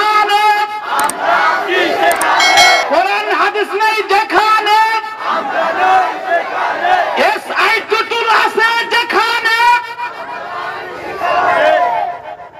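A large crowd roars the Nara-e-Takbir chant response in unison at an Islamic religious sermon gathering in Bangladesh, loud, sustained massed voices rising and falling in repeated shouted waves, near and full for several seconds.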